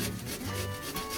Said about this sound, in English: The other way we can do this is by grating, and this makes a much finer amount to go on the top.